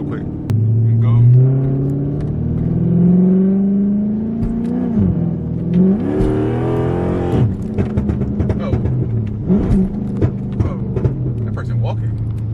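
A Dodge SRT revs hard and accelerates through corners in a quiet residential neighborhood, its loud engine rising and falling with a rough rumble. A burst of tire squeal comes as it slides, and a voice talks over parts of it.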